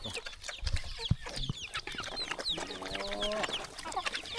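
Chickens cluck and call close by on a rural Lao farm, scattered short clucks and squawks over a quiet outdoor background, with a brief rooster-like call in the middle.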